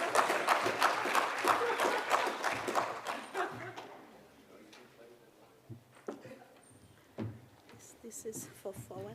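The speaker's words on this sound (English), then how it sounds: "Please clap for my boss." Audience applause at an occupational health and safety conference on underwater diving work: a burst of clapping that is loud for the first four seconds, then thins out into scattered claps, with low murmuring and shuffling in the room.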